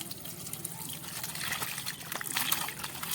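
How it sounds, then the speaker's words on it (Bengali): Tap water running while raw chicken is washed by hand, a steady close trickle and splash with brighter bursts of gushing toward the end. "তো সেই চিকেনটা এবারে ভালো করে আমি এখানে ধুয়ে নেব।"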